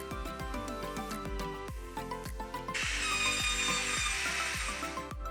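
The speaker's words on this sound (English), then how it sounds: "I'm cutting the lid, I'm cutting the bottom as well" Wood being sawn for the lid and bottom of a storage ottoman, with loud, regular strokes, and a brighter whining layer joining halfway through.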